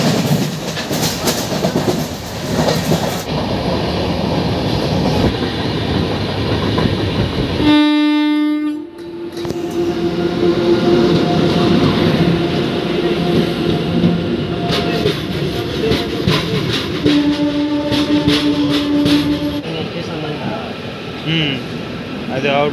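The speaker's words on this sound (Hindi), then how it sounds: "तो आइए देखते हैं लखनऊ पे इस ट्रेन का अराइवल।" Avadh Assam Express train pulling into Lucknow on an Indian railway: a continuous rumble of rolling wagons with wheel clatter, broken by long, loud horn blasts, one then another later.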